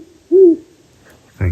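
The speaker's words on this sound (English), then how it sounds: "At dusk, we headed back to the City of Rocks, where we were serenaded by the resident great horned owls." Great horned owls hooting at dusk at City of Rocks: one clear, close, deep hoot, then after a pause a shorter, rougher call, loud against a quiet background.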